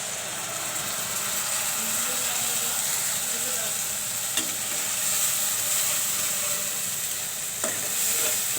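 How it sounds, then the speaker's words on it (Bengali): A spice mix for tomato hilsa fish curry fries in a pan, giving a steady soft sizzle and hiss with occasional stirring scrapes, fairly quiet and close. "মশলা কষিয়ে নিলাম"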